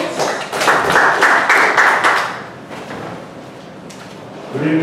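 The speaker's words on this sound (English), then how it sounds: "Let us welcome him with a round of applause." At a Toastmasters meeting, a room of attendees gives a round of applause, a burst of clapping that swells and then thins out, followed by quieter room sounds and a voice starting at the end.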